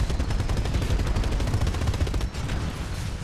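The Monarch titan's weapon in Titanfall 2 spinning up and firing, a loud, dense, rapid stream of gunfire that runs continuously with a brief dip partway through, no speech.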